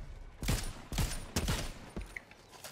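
Three heavy, booming Heisted Explosive Assault Rifle shots in Fortnite, each followed by a rumbling explosive tail, spaced about half a second apart, with a fainter fourth hit trailing off.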